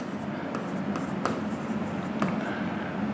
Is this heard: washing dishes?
no